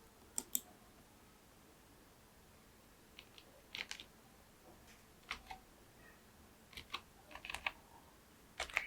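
Text is typed on a computer keyboard in Photoshop: faint, sparse key clicks arriving singly and in short bursts against a quiet room.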